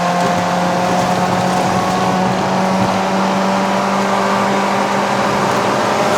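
A 2010 Mazda 3 BL Sport with a 2.0L engine in manual mode, driven uphill in Malaysia, revs to redline in a steady, loud interior drone with a strong engine tone that holds through the whole stretch, no voices.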